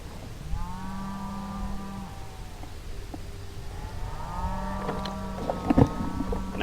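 Cattle moo in an open field of bunch grass during a hog hunt, two long drawn-out low calls a few seconds apart, fairly close and clear against faint wind, with some rustling at the end.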